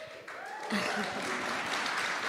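Steady applause from a crowd, building quickly after a brief voice and holding at an even level throughout.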